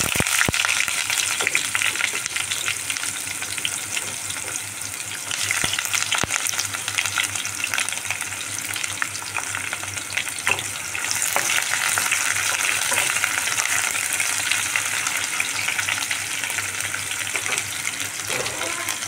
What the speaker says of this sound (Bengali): এবার এর মধ্যে আমি কুচিয়ে রাখা পেঁয়াজগুলো দিই।